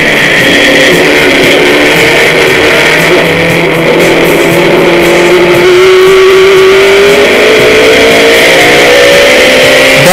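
A 1964 Ginetta G4 four-cylinder competition sports car races at high revs during a speed festival, its loud, strained engine note climbing steadily through a gear over about ten seconds with no talking.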